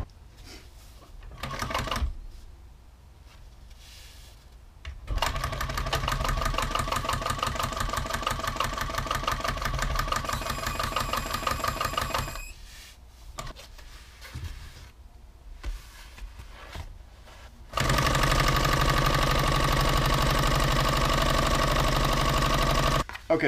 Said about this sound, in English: Now I'm going to use her sewing machine to sew a new cockpit pocket out of Sunbrella.